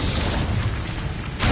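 A fire spell cast in a fantasy wizard action game bursts out as a loud, sustained whooshing roar with a booming low rumble that holds steady for over a second, with no talking.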